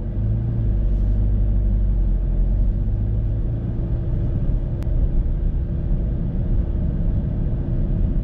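Chevrolet Camaro ZL1 1LE, a 2021 car, driving off, heard as a constant deep engine and road rumble from the cabin, steady and fairly loud, with no voices over it.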